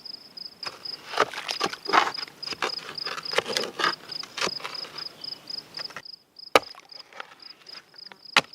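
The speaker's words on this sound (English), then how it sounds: "As I'm digging, the hole's going down and a little bit that way." A shovel digs into wet ground beside a spring, giving irregular close chops and scrapes with brief pauses. A steady high cricket chirp runs underneath throughout.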